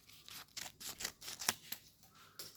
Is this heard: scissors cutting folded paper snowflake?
yes